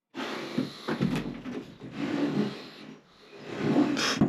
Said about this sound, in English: An old drawer.